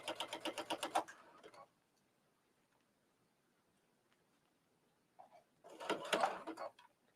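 Domestic sewing machine stitching a quilted book cover at slow speed: a short rhythmic run of needle strokes, a quiet pause, then another brief burst of stitching, close and clear.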